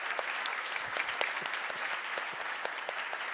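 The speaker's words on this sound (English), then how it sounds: "Applause for you." Steady, dense applause from an award ceremony audience, filling the whole stretch at an even, sustained level.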